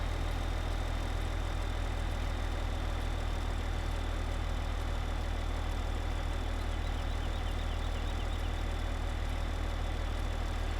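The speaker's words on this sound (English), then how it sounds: "Well, I'm glad I got to try this tractor." A tractor engine runs steadily in Farming Simulator 15 video game, a constant, unchanging low drone with a droning hum that holds at an even level for about eleven seconds, alone and without talk.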